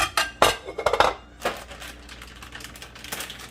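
Cooked sausage tipped into a bowl while making stuffed jalapenos, a handful of sharp clinks and scraping clatters in quick bursts, fairly close, with no talk.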